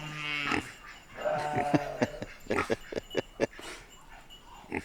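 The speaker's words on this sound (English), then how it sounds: "You a good pig, Patrick?" A pig grunts in its pen on an off-grid homestead, making a run of short, close, rough grunts and snorts in an uneven rhythm, with a voice speaking faintly at times.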